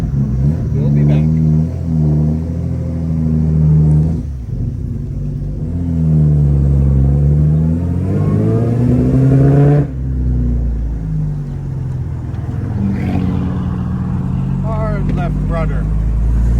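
A 1952 Jaguar XK-120 SE Roadster idles while it warms up, a deep, steady engine rumble that swells briefly as it is revved. It sounds close and loud, and people talk over it.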